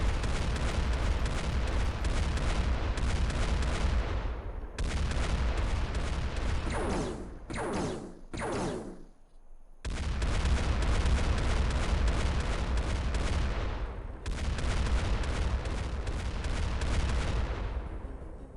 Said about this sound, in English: Fire mission away.